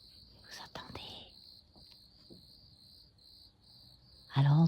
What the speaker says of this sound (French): On entend les criquets.